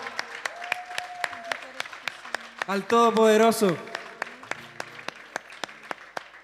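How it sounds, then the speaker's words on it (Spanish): Church congregation claps loudly in response to a call for applause, a dense, steady wash of clapping with sharp individual claps, while a voice speaks over it and a brief burst of sung or shouted sound rises midway. "Démosle un fuerte aplauso al Rey de Reyes, al León de Judá,"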